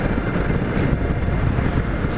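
A 2019 BMW F850GS motorcycle engine on a test ride, heard as a steady, dense, slightly tinny drone mixed with wind rush, continuous and fairly loud throughout with no pauses.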